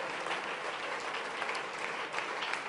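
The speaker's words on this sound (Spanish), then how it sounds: "demos un aplauso a Javier Maroto, que se casó ayer." Audience at a Spanish Socialist Party political rally applauding, a dense, steady wash of many hands clapping at moderate loudness throughout, with no speech over it.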